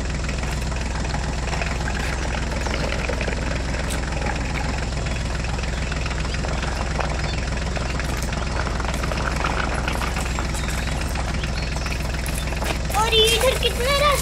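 A tractor engine runs steadily throughout with a low, constant rumble and idle-like knocking while moving along a rough jungle track, and faint voices come and go over it.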